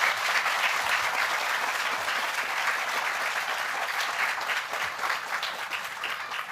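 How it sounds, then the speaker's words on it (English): Steady applause from a graduation audience honoring the trustees, dense and sustained throughout at an even level, with no voices standing out. "Let's give them a round of applause."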